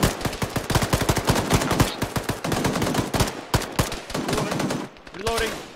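Rapid automatic rifle and machine-gun fire in the Arma video game during a firefight with enemies, bursts of close, loud shots in quick rhythm for several seconds, briefly pausing before more shots.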